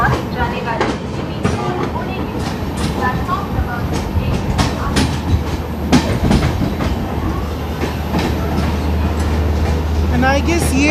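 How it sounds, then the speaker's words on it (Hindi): A Manmad CST Express passenger train hauled by a WAP4 electric locomotive runs past close by, a steady loud rumble with rail clatter, wheel clicks and squeals, with some voices mixed in. "है मनमाद CST एक्सप्रेस। WAP4 के साथ।"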